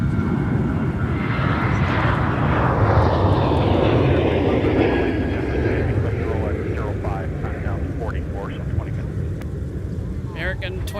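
Airliner jet engines roar steadily at MSP airport, loud and sustained with wind buffeting the microphone, while a person talks over the noise.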